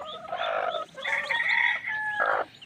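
A mother hen with her newly hatched chicks clucks and crows in loud, close bursts with short pauses between, and thin high peeps sound over the calls.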